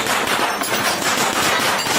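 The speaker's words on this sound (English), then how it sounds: "They just shooting that shit." A dense, loud rattle of rapid automatic gunfire continues without a break from a police encounter at a house and garage, crackling hard throughout.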